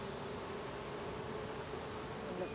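A soft, continuous buzz of many honeybees hums steadily in the background, faint and even, with no voices, as a smoker is used at the hive.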